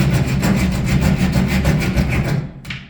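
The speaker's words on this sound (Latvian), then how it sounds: "Nu, reku tagad ar reģipšu zāģīti tādu." A drywall hand saw cuts the edge of a plasterboard panel near the top of a wardrobe during an apartment renovation, with steady rhythmic rasping strokes, close and loud, ending abruptly.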